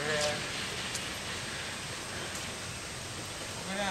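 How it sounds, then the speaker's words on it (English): Steady rain patters on an umbrella held overhead during a walk outdoors, a dense, even hiss that runs unbroken and close throughout, with no talking. "Walk in the rain."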